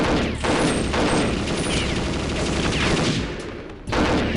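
Loud, sustained gunfire from the first-person shooter Perfect Dark fills the clip, with rapid overlapping shots and a brief dip near the end before the firing resumes.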